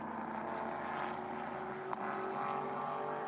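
A prototype race car circulating at Mugello during a European Sprint Prototype Cup race, its engine droning steadily at low revs for the whole stretch with a faint blip near the end.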